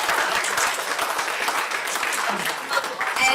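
Steady applause from a conference audience at an entrepreneurship summit, dense continuous clapping filling the room at a fairly loud level throughout.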